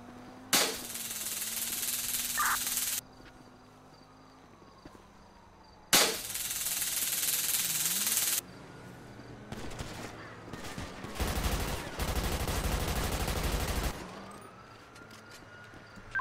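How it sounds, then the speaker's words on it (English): Video game roleplay gunfire crackles in several loud bursts, including a long continuous volley near the end, with quieter stretches and a faint wavering tone between the shots. "Shots fired"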